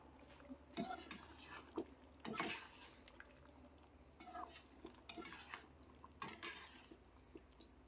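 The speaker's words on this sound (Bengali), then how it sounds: "ঢাকনা তুলে অল্প অল্প করে নেড়ে দেখে নেব নিচে যাতে না লেগে যায়" A lid is lifted and chicken curry is stirred in a pot, giving a few scattered metallic clinks and scrapes of a spoon against the pot, spaced apart and fairly close, with quiet gaps between.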